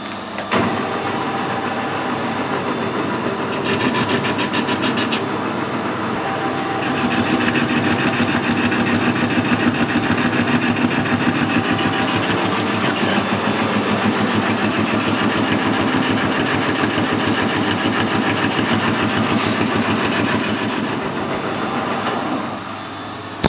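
A lathe bores out a worn pulley bore, taking an interrupted cut across the keyway, with a steady loud mechanical drone and rhythmic clatter that runs continuously, swelling slightly in the middle.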